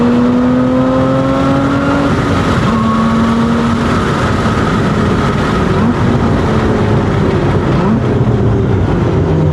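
A 2024 Lotus Emira engine revs hard on a race track with heel-toe downshifts, loud and close, its pitch climbing and dropping through gear changes without a break and with no voices over it.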